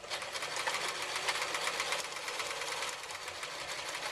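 A sewing machine stitches steadily around a fabric project bag, a fast, even mechanical whir that runs without pause, close and fairly quiet.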